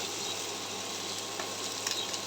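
Quiet, steady sizzling of vegetables frying in a pan, with a few faint scraping clicks near the end.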